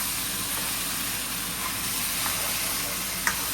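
Beef and chicken stir-frying in oyster sauce on a home burner, a steady loud sizzle and hiss of hot oil and steam with faint scraping of stirring and one small clack near the end.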